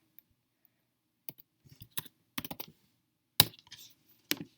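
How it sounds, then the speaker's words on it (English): Sparse, irregular keystrokes on a computer keyboard, close and crisp, with clusters of clicks separated by quiet gaps. "Sorry if that part's I was typing slow."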